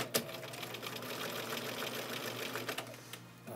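A Bernina Record 930 sewing machine stitches nearby at a fast, steady mechanical rhythm, with a brief pause in the clatter before it picks up again near the end.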